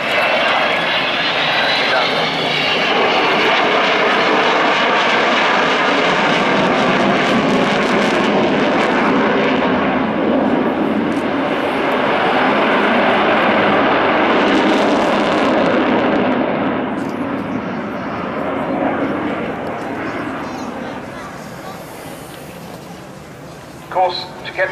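An Avro Vulcan XH558 jet bomber flies and banks over Farnborough, its loud, broad engine roar sustained throughout and slowly shifting as it turns, with a commentator talking over it.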